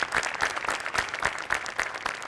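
Standing ovation from a studio audience for the technicians of a Marathi comedy show, a dense, steady roar of many hands clapping close and loud throughout.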